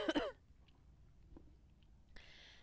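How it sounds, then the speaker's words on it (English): A single short cough bursts out at the start, followed by quiet room noise and a faint rustle near the end. "I got a cough."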